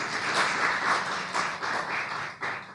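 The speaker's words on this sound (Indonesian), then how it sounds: "Tepuk tangan dulu untuk Tuhan yang baik." A church congregation at a sermon service claps together, a full room of applause rising and falling in waves for a few seconds, fairly close and unaccompanied by talk.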